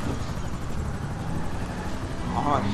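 Helicopter rotor noise in GTA 5, a steady close whir that fills the whole moment, with excited voices talking over it.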